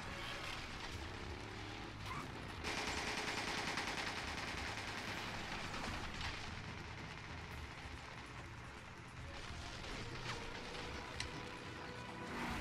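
Gunfire in the video game Resident Evil 5 sounds as rapid bursts of automatic shots over mechanical game noise, fairly quiet and intermittent, with a sharp bang at the very end.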